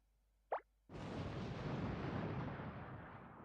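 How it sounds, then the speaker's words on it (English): A short pop is followed by a sudden booming explosion in the Touhou LostWord video game, its rumbling roar sustained loudly before slowly fading. "That explosion sound must be Flan's doing."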